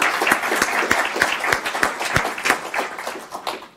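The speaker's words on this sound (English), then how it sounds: "Please give Bob a big round of applause." An audience applauds a guest speaker at an NYU Stern campus event: dense, steady clapping from a crowd, fairly close, with a few sharper individual claps standing out before it thins toward the end.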